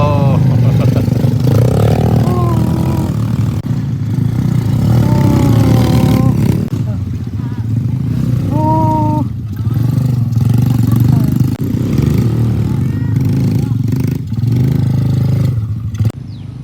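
Trail motorcycle engines idle and rev in rising whines, close by at a rental near Salido Beach, with people talking over the rumbling engine noise.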